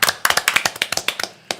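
Sharp, uneven claps from a small audience at a Gwanghwamun political rally in Seoul, about a dozen loud slaps in a quick burst over under two seconds.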